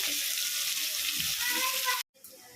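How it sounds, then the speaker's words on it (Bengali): Sliced onions frying in hot oil with black cumin and bay leaf for a Bengali katla fish kalia, a loud close sizzle that cuts off abruptly near the end, then resumes more faintly. "পেঁয়াজগুলো একটু ভাজা ভাজা হবে।"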